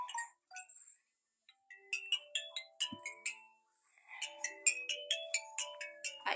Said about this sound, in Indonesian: Aisyah ada telepon.